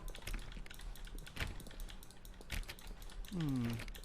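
Rapid clicking on a door in the video game The Stanley Parable, a steady close run of sharp clicks under a talking voice and faint game sounds.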